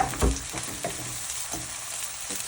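Tomatoes going into a hot frying pan, giving a steady close sizzle with a few scraping stirs and light knocks, no talking.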